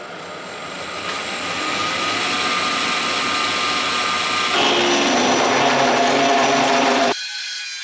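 A small benchtop mill machines hardened steel on a mini anvil, a steady loud whine and broadband grinding that roughens and intensifies partway through, then cuts off abruptly as the mill stalls.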